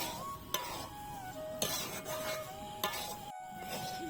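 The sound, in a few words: stirring and frying semolina in a pan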